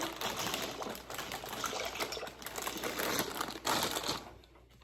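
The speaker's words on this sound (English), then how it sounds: "We're going to start off by pouring the pasta into the water." Dry shell macaroni pasta poured into a pot of water, giving a steady crinkling, pattering rush that runs for several seconds and fades out at the end.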